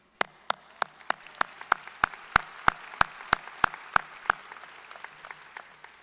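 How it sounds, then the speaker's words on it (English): A graduation audience at Roosevelt High School's 2023 ceremony claps in unison, about fifteen sharp, evenly spaced claps that build slightly and then stop after roughly four seconds. "We can clap for you, that's fine."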